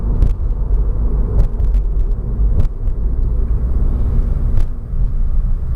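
A car drives along a road with a loud, steady low rumble of engine and tyres heard from inside, broken by occasional brief knocks and bumps.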